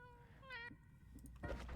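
Video game cat meows from a spell that turns projectiles into cats, two quick quiet meows in succession followed by a muffled thud and low rumble.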